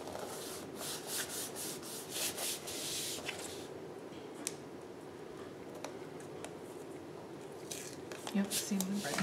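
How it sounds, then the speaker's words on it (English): Paper is burnished down onto a handmade card with repeated dry rubbing strokes, a close scratchy back-and-forth with a few faint ticks and a voice at times. "Yep, see, I'm gonna burnish it down."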